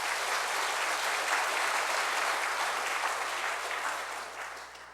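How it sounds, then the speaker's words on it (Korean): Congregation applauding in a church service after a piano accompanist's performance, a steady dense wash of clapping that carries on throughout and tapers slightly at the end. "격려의 박수 한번 부탁드립니다"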